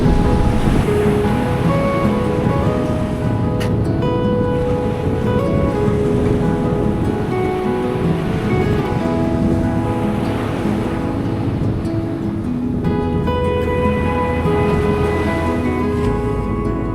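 Ocean swell and surf washing around the boat Seawitch in worsening weather at sea, a loud continuous roar of waves with gusting wind buffeting the microphone and some creaking, no voices.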